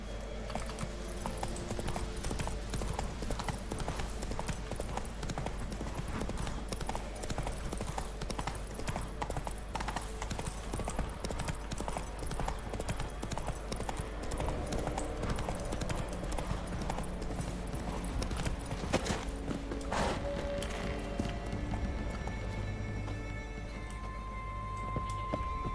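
Horse galloping in The Witcher 3 video game, a steady rapid clip-clop of hooves running continuously under game ambience, with an occasional faint whinny and little speech.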